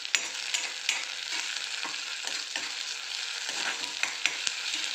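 Onions with ginger garlic paste sizzle steadily in a pan, a constant bright frying hiss punctuated by occasional stirring scrapes, close and alone without any voices.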